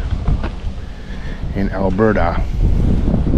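Wind at Long Lake Provincial Park in Alberta on a sunny, cool day buffets the microphone with a continuous low rumbling roar, while a person speaks briefly partway through.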